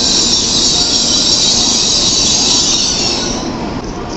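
A Shinkansen Nozomi bullet train rushes through Kyoto Station with a loud, continuous roar of wheels and airflow and faint squealing, easing slightly as it passes.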